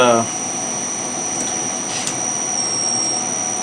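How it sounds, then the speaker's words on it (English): A machine spindle spins up with a steady high whine and a constant pitched tone that holds for the whole clip, after a brief low hum at the start. "let's spin the spindle"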